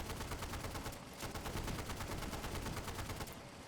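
Rapid sustained bursts of .50 caliber machine-gun fire from the Easy Red 2 video game, dense and continuous with near-constant cracking shots across the whole stretch, no talking.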